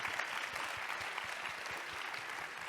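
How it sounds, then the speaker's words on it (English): Audience at a Juice Plus+ conference in Canberra gives a steady round of clapping, a dense, even patter of many hands at moderate distance, continuing without speech. "So give him a little clap,"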